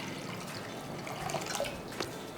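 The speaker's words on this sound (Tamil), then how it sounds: "இப்போ இதில் ஒரு கடாய் வச்சு கடாயில் தண்ணி ஊற்றிக்கலாம்." Water splashes and trickles steadily into a wok, a soft continuous pouring with a few small drips.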